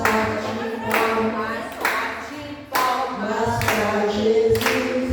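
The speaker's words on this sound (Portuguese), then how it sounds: "Bate palmas sem cessar." A church congregation claps along during a worship service, sharp in-time hand claps landing about once a second while the group keeps singing throughout.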